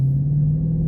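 Low, steady exhaust rumble from a Dodge Charger 392 cruising down the highway. The drone is close and unbroken, with no voices over it.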